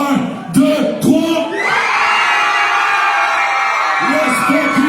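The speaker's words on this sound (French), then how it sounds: "vous allez crier le plus fort que vous pouvez. Je veux que les murs ici tremblent" A concert crowd shouts as loud as they can, a sustained roar of yelling and whoops after a few short bursts of voices, with a speaker's voice heard at the start.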